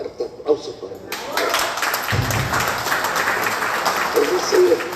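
Audience applause at a history lecture about San Luis Río Colorado, breaking out after a brief pause and building into sustained clapping from a crowd, with a voice over it near the start.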